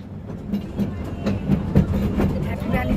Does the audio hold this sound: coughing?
no